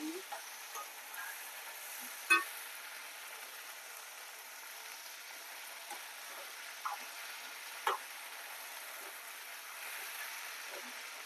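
Ivy gourd (dondakaya) pieces frying in a pan, giving a soft, steady sizzle with a few faint stirring clicks, quiet and close, with no talking.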